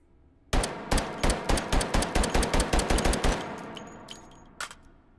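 Rapid gunfire from a .45 ACP gun in the VR shooter Hot Dogs, Horseshoes & Hand Grenades: about a dozen sharp, loud shots in a fast even burst, then a lone shot shortly after.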